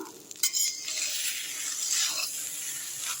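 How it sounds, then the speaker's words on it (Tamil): Cooked rice for coconut rice is stirred in a pot, with a steady soft hiss and a few light clinks and scrapes of a utensil against the metal, including one sharper knock near the start. "இப்போ நல்லா வந்து கிண்டி விட்டுடலாம்"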